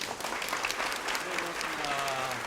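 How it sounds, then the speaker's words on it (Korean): Audience applause after a lecture at a talk show event, dense steady clapping from a crowd filling the whole stretch, with a voice speaking over it near the end. "박수 한번 다시 부탁드리겠습니다"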